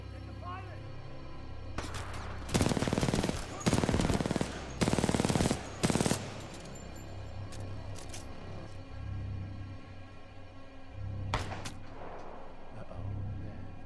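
Enemy gunfire in the shooter game Titanfall 2: several loud bursts of rapid shots cluster in the middle, with a few sharp single cracks later, over a low game hum while someone talks.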